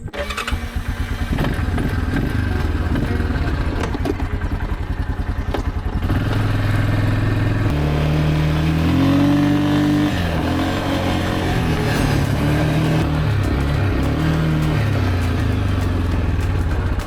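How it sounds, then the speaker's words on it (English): A quad bike engine runs during a short test drive, revving loudly and steadily with rising and falling pitch, close by and without talk. "I'm gonna have fun on a quad bike. But I've got to do a little test drive first."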